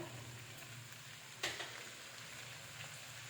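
Chowmein noodles with soy sauce are stirred and mixed in a hot pan, a faint, soft sizzle with one sharp scrape of a utensil and a lighter scrape later, and no voices.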